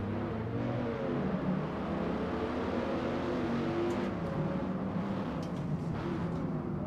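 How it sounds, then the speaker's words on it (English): Roaring Dodge Viper race cars fill a multiplayer race in the Forza Motorsport game, a dense, continuous engine drone holding steady throughout without any voice over it. "a race full of very loud Vipers"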